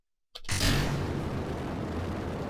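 A rocket engine throttling up in Kerbal Space Program bursts in after a moment of silence, then holds as a loud, steady roaring rumble.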